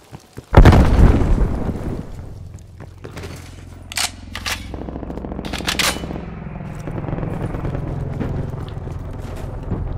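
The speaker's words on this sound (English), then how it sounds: "Throwing frag." A frag grenade in Call of Duty: Black Ops Cold War bursts in a loud, close blast near the start, followed by scattered sharp pops and gunfire cracks over a rumbling background.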